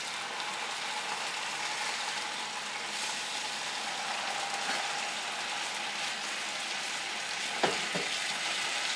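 Turkey pieces for teriyaki frying in a pan just after being flipped: a steady, close sizzle runs throughout, with a brief clatter near the end.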